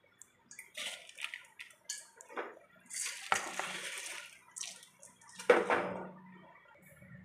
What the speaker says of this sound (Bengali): জলটা আমার ফুটে গেছে। আমার ধুয়ে রাখা চালগুলো এবার আমি দিয়ে দেবো।